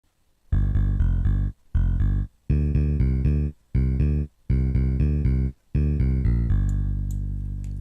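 Bass guitar part from a rock song, played as short phrases of deep sustained notes separated by brief gaps, loud and alone with no voices.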